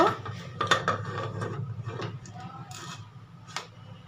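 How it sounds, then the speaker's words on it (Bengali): A lid goes onto a pressure cooker holding goat curry with potatoes, tomatoes and dried red chillies, making a few close metallic clanks and rattles, with a brief scrape and a final clink. "এখন ঢাকনা দিয়ে ঢেকে দেব"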